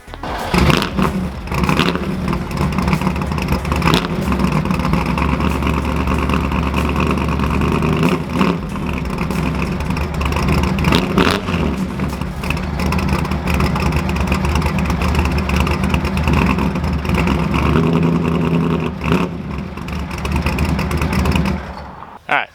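A Ford F100 pickup truck engine turns over and settles into a steady, close rumble, revving now and then for about twenty seconds, ending with a brief clunk.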